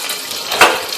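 Whole cumin seeds dropped into hot mustard oil in a kadai, a brief loud close sizzle that swells in the middle and stays bright and hissing.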